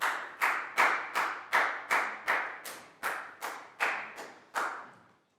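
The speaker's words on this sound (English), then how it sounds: "And a big round of applause for everyone" A Year 4 maths class gives a round of applause, a steady series of around twelve crisp, evenly timed hand claps, close and moderately loud, fading out at the end with no voices.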